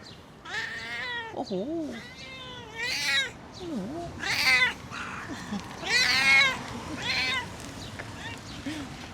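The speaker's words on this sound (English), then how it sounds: "This is the proof that cats not always meows because they're hungry." Stray cat meowing repeatedly at close range, a series of drawn-out, rising and falling cries with short pauses between them, while a person makes a brief sound.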